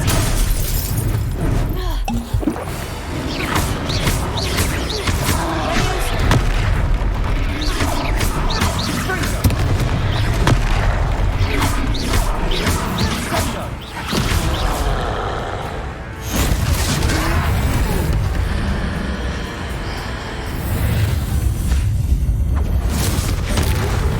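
Repeated Confringo fire spells blast into a troll during a Hogwarts Legacy fight, loud bursts and crashing impacts layered over continuous game music and combat noise.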